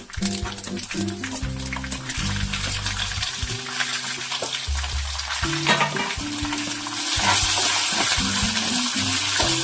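Onions and green chillies sizzle loudly in a hot pan for puffed-rice uggani, a close, bright crackling hiss with stirring and scraping, intensifying toward the end, while a voice speaks faintly underneath.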